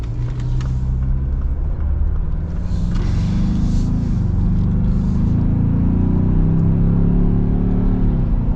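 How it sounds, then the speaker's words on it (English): Cabin sound of a turbocharged 2025 Ford Bronco base model accelerating, a steady low engine drone and road rumble that rises in pitch through the gears, heard from inside without talk. "Because this is turbocharged and has so much low-end torque, it doesn't feel bad accelerating and going through the gears."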